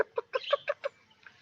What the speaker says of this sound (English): just like the mama hen will call to her babies